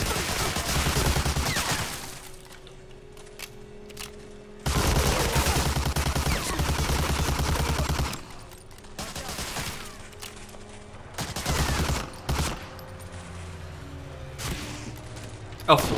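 Gunfire in Medal of Honor: Allied Assault comes as dense bursts of rapid automatic shooting and scattered single shots, with quieter gaps between the volleys and a voice talking over the battle.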